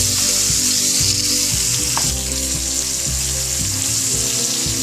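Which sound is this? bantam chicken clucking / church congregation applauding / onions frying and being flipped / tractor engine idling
onions frying and being flipped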